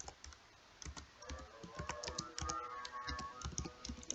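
Typing on a computer keyboard into a Google Docs document, a quick irregular patter of soft key clicks, close but quiet, without any talking.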